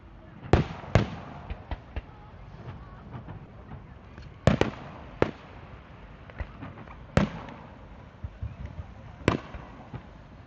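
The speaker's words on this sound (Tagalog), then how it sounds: "May fireworks din sila doon." Canada Day fireworks over Toronto pop and crackle in scattered sharp bursts from far away. The bangs are spread irregularly across the outdoor night air, and soft ambient murmur and voices can be heard between them.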